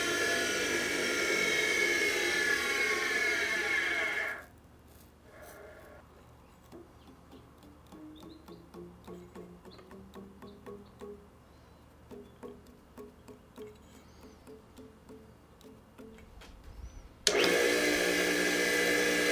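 A K.O. Lee B2060 grinder's electric motor gives a steady, fairly loud whirring hum at the start, drops to a much quieter stretch with faint rhythmic ticking and a shifting whine, then the loud hum returns abruptly.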